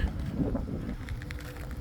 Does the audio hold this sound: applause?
no